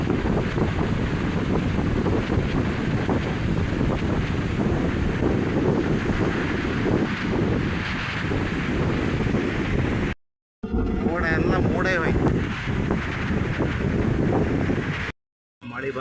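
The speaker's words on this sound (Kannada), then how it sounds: "ಗಾಳಿ ಮತ್ತು ಎಷ್ಟು ತೀವ್ರಗತಿಯಲ್ಲಿರ್ಬೋದು ನೋಡ್ಬೋದು ನೋಡಿ" Strong wind blasts across the seashore under dark storm clouds, roaring and buffeting the microphone loudly, with surf rumbling beneath and two short dropouts near the end.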